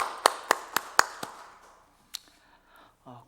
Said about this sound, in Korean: 우리 박수로 하나님 앞에 영광 올려드리겠습니다